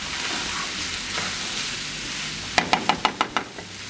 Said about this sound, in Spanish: Ahora vamos a sofreír el arroz precocido.